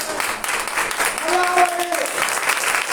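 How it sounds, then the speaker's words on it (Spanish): A church congregation applauds during a worship service, with dense, steady clapping filling the space and voices rising over it throughout. "Denle un aplauso al Señor."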